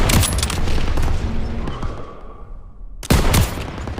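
Machine gun fire and rifle shots in the World War II shooter Call of Duty WW2, a dense crackling fusillade of rapid bursts, then a brief lull and a loud, close burst of fresh gunfire.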